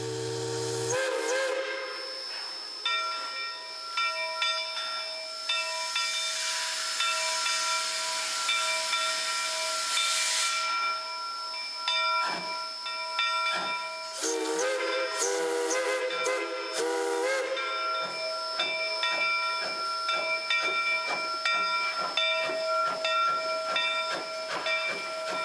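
Mt Rainier Scenic Railroad steam locomotive No. 70 hissing loudly up close, with long sustained whistle blasts and bursts of venting steam, no talk.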